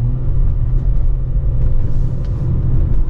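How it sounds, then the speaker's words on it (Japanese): A Toyota RAV4 hybrid SUV engine braking while driving on a suburban road. A loud, steady low rumble of road and drivetrain noise fills the cabin without pause. "この意味もなくエンブレ効かせちゃうやつ"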